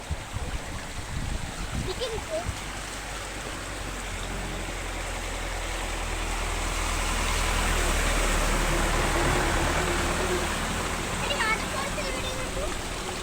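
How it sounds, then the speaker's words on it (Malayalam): Rainwater spills through small waterfalls in the countryside, making a steady, close rushing and splashing that fills the whole stretch and swells slightly toward the middle. "വെള്ളത്തിന്റെ വെള്ളത്തിന്റെ സൗണ്ടാണ്"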